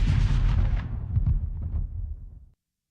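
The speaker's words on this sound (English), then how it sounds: "Now we need explosion right there." A single heavy explosion sound effect booms loud and close, then rumbles and decays over about two and a half seconds before cutting to silence.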